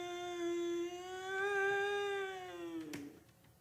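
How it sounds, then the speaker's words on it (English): A creature gives a single long, drawn-out cat-like meow, loud and close, wavering in pitch for about three seconds before breaking off with a faint knock, in a radio drama. "I could hear it meowing like a cat."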